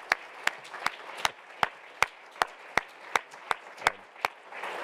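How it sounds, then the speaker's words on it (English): An audience at a conference's closing remarks claps in a slow, steady rhythm of about a dozen distinct, fairly near claps, with no voices over it. "So if I could ask you to clap and get their attention."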